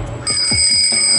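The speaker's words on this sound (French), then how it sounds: "C'est une sonnette, vas-y, essaie-la." A bright, sustained metallic bell ring starts after a brief moment and holds steady, close and loud, over faint low rumbling.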